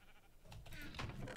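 A single sheep in a video game bleats briefly, quiet and slightly wavering, over faint background noise.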